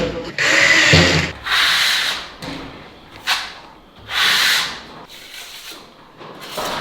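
Drop ceiling panels trimmed to fit during a renovation of an old stone house in Portugal: repeated loud rasping strokes of cutting or rubbing, about six in a row with short pauses between, close by and without talk.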